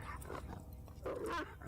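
Dogs barking in the horror game Fear and Hunger Termina, repeated harsh yelps rising over a dense, noisy game backdrop, with a louder burst near the end.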